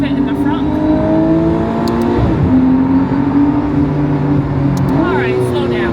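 McLaren Artura Spider driving and accelerating, its engine note steady and loud with rising pitch sweeps as it speeds up, heard from inside the car while people talk over it.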